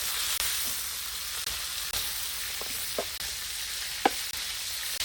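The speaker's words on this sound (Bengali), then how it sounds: "এভাবে আমি সবগুলো কাঁকড়া ফ্রাই করে নিচ্ছি।" Crabs frying in hot oil in a pan give a steady, close sizzle with a few brief stirring clicks and pops, and no talking.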